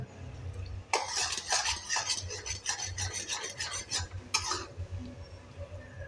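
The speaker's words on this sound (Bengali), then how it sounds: "দেখো কীরকম ফুটে আসছে তো দেখো গুড়টা প্রায় হয়ে আছে" Jaggery thickening in a pot as it is stirred, heard as repeated scraping and clinking of a spoon against the metal pot in irregular bursts over a low bubbling simmer, fairly close.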